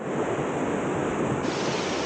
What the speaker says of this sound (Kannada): ನೋಡಿ ಎಷ್ಟು ಅದ್ಭುತವಾಗಿ ಹರಿತಾ ಇದೆ ನೀರು